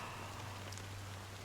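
Drizzling black rain in the game Honkai Star Rail, a faint steady hiss of fine rainfall over a low hum, continuous and even.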